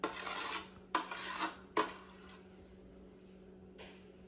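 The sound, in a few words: scraping lemon zest off with a spoon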